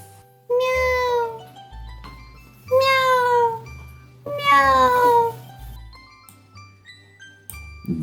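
A cartoon kitten meows pitifully for food in the kitchen: three long, drawn-out plaintive meows, close and loud, separated by short pauses over a soft low background.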